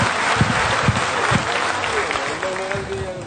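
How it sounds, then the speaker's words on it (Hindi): Audience applause welcoming Mr. Gautam Wali at a gathering, loud dense clapping with a few sharp individual claps, then a faint tonal sound near the end. "मिस्टर गौतम वाली के लिए एक जोरदार ताली से स्वागत किया जाए"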